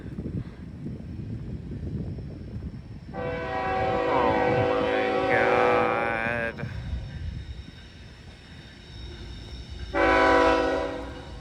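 A BNSF freight train passes at Elkhart, sounding two long blasts of its multi-tone air horn, the second shorter and louder, over a rumbling rail background with people talking.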